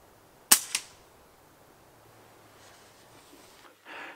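An FX Dreamline laminate .177 air rifle is dry fired, giving one sharp, loud mechanical snap followed quickly by a smaller click, then near silence with faint handling rustle at the end.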